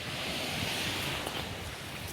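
Steady surf on a sea beach where people bathe, a continuous close wash of breaking waves with wind noise on the microphone and no voices.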